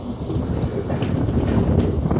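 Sanghamitra Superfast Express rolling along, a steady, loud rumble of wheels and carriage noise with a faint rhythmic clatter, heard from on board without talk.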